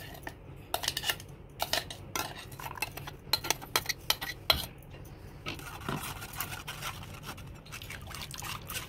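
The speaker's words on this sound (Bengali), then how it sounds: "এবার এটাকে আমি এই ছাঁকনি দিয়ে ঠেকে নেব।" Betel leaf sherbet is strained through a strainer, a string of light metallic clinks and taps with soft liquid sounds between them, busy at first and then thinning out.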